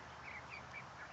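Chicks call outdoors in a quiet, tranquil setting: four faint, short, high peeps spaced roughly evenly over a soft, steady background hush.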